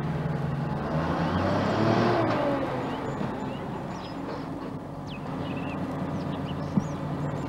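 A truck approaching on a rural collection round, its engine a moderate rumble that swells as it draws nearer and then eases off, with faint bird calls in the background.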